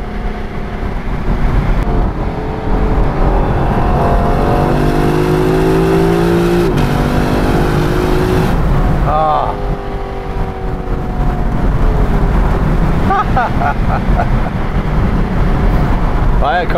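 Engine and exhaust of a 2021 Lexus LC500 convertible with a 10-speed gearbox, rising in pitch through repeated upshifts while accelerating, loud and close, with a brief pause near the middle.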